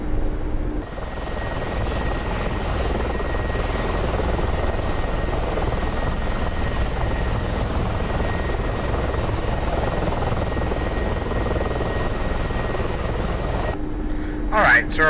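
Mi-24 Hind attack helicopter flying in the DCS combat flight simulator, a loud steady rotor and turbine drone from the cockpit, continuous and close, with a faint voice over it near the end.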